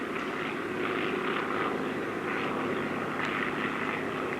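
The engines of a Boeing B-17 bomber at an airshow give off a steady, moderately distant droning roar with slight pulsing swells, sustained throughout with no talk.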